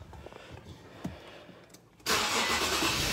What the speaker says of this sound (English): we're gonna turn the car on.